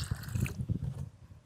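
Water being poured into a separate container to mix a soil treatment for oil palm, a short splashing pour that fades out within about a second.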